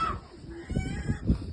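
Chickens at a poultry farm give a few short, low clucks in an uneven rhythm, moderately close and fairly quiet, with no talking.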